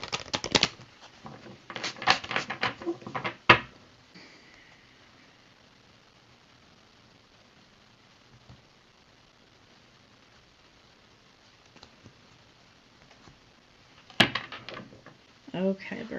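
Bursts of crisp tarot card shuffling at the start and again near the end, with a long quiet stretch in between.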